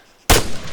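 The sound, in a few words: gunfire in the video game Arma 3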